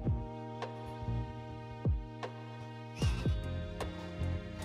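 A DJI Avata 2 FPV drone flies in sports mode around trees, giving a steady, tonal motor whine with rising and falling pitch swoops as it speeds up and turns; no talk is heard.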